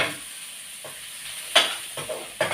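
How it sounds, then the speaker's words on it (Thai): Pork and garlic stir-fry in a hot pan, a low steady sizzle broken by a few sharp scraping and tossing strokes, close by and fairly quiet, with no talk. "กำลังผัดหมูนะครับผมรวนหมูกับ กระเทียมนะครับผม"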